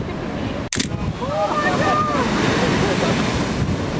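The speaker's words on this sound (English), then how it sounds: "waves are really big, and it's really big, and it's really cool to see." Big ocean waves breaking below cliffs under strong wind, a steady roaring surf with heavy wind buffeting the microphone, loud and continuous.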